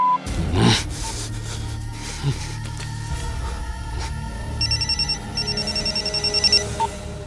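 A telephone rings in a tense Telugu film scene, its bright repeated trills arriving in short even bursts near the end, over a dark background score with no voices.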